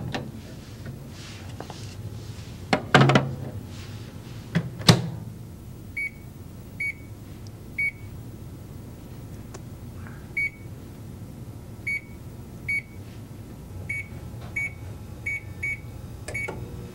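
A 500-watt microwave oven cooking muffins gives a low steady hum, with a couple of clunks early on and a series of short electronic beeps repeating through the second half.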